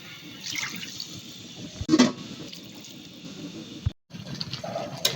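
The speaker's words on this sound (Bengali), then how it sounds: "2 কাপ পানি দিয়ে দেব।" Two cups of water are poured into a cooking pan holding fried chicken filling with turmeric, a short splashing gush near the middle, then a quieter trickle and stirring against low kitchen noise.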